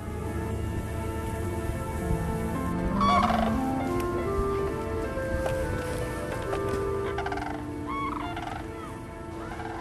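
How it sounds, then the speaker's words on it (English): Sandhill cranes fly past, giving rattling, bugling calls in a burst around the middle and again near the end. The calls sound moderately distant over a steady outdoor background. "The sandhill crane fly past."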